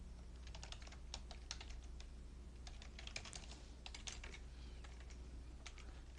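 Rapid typing on a computer keyboard while entering accounting data, with crisp irregular key clicks and occasional tab presses, close and steady over a low background hum, with no voices.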